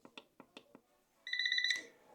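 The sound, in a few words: digital alarm clock alarm beeping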